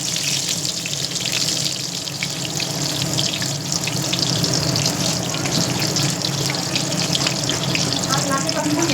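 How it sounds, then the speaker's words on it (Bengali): Eggplant slices frying in smoking-hot oil in a pan give a dense, steady, hissing crackle that stays loud and even throughout. "এবার বেগুনগুলো সাবধানে ছেড়ে দিচ্ছি"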